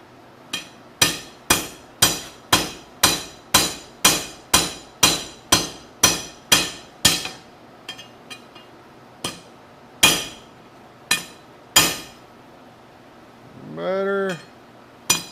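Steel being hammered at the forge, a steady run of about a dozen evenly spaced ringing blows, then a few slower scattered strikes, loud and close with no voices over them.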